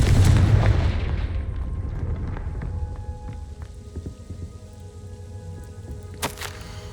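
A Confringo fire spell blast in Hogwarts Legacy, a loud booming burst at the start that rumbles and fades into a crackling, rain-like hiss, with a sharp second crack near the end.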